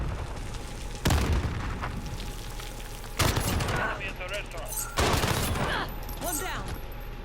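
VTOL killstreak gunfire in a Call of Duty Kill Confirmed match: three heavy bursts of booming fire with rumbling tails over a constant bed of game noise.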